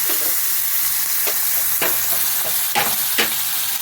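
A spice paste of panch phoron and green chilli fries loudly in hot oil, a dense close sizzle punctuated by several quick stirring scrapes.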